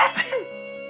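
A single quick, sharp sneeze-like burst with a sniffle, followed by a sustained tone lingering underneath.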